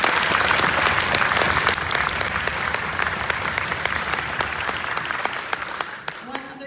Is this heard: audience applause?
yes